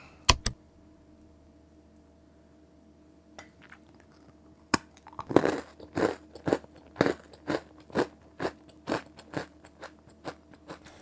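Crunchy bites and steady chewing of a sweet pumpkin scone, close to the mic: a few sharp crunches early, then a regular run of loud, crisp chewing crunches after a pause.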